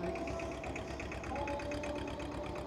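A motor turning a children's tractor ride at a tractor fair, chugging in a steady, quick rhythmic pulse at moderate distance, fairly faint and continuous.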